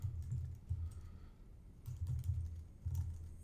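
Typing on a computer keyboard in three short bursts of quick, muffled clacking separated by brief pauses, close and fairly quiet, with no voices.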